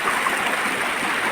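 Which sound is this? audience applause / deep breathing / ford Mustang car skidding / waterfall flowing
waterfall flowing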